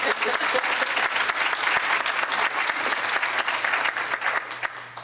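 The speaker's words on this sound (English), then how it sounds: "if we can give them a round of applause." An audience at a talk on childhood trauma and toxic stress gives a sustained round of applause, dense clapping heard close and loud for several seconds before tapering off at the end.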